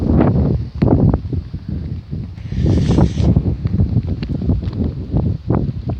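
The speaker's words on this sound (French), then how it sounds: "Vous entendez le vent, bien sûr." Loud, gusty wind buffeting the microphone, with a steady rough roar and rustling surges throughout.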